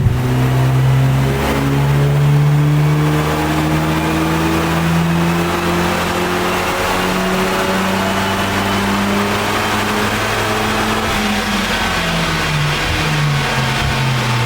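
Tuned VW Golf Mk8 GTI at about 300 brake horsepower with overrun active, revving loudly and steadily up and down with close, continuous engine roar and crackling throughout.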